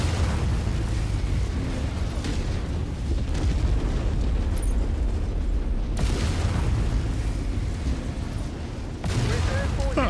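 A destroyed mech blows apart in MechWarrior 5, heavy booming explosions and rumbling blasts filling the scene loudly and continuously, with fresh bursts near the middle and end.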